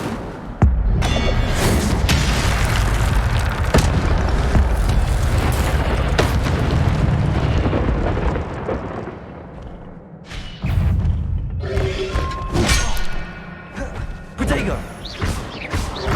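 In the Hogwarts Legacy video game, repeated Incendio fire spell blasts boom and crash loudly over a dense game soundscape, with a short lull before more bursts, while a voice calls out spell names.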